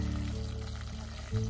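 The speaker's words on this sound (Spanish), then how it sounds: "para que veamos que está la harina friendo" A steady, soft sizzle of flour frying in a pan as the roux for a béchamel sauce with parmesan and mustard, continuous and close with no talking.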